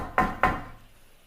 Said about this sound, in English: When you heard the knock on the door,